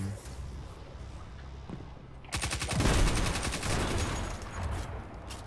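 Rapid submachine gun fire in Destiny 2 erupts after a quieter stretch, a dense burst of repeated shots lasting several seconds, loud and close over a low game backdrop.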